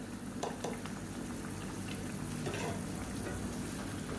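Steady bubbling and sizzling hiss from a pot of egg curry (muttai kulambu) on the heat, continuous and close, with a couple of faint clinks near the start.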